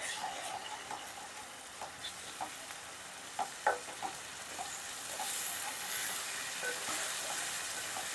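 Tomato and onion paste frying in a pan with steady soft sizzle, broken by a few light scrapes and knocks of stirring, fairly quiet and close, with no talking.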